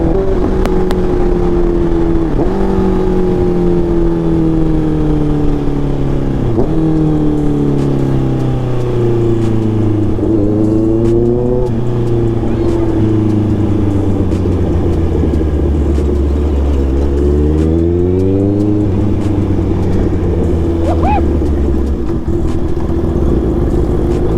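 A Honda CBR650R sport motorcycle being ridden near a municipal school, its inline-four engine loud and close, rising through the gears with repeated revs and shifts, then settling into a steady drone.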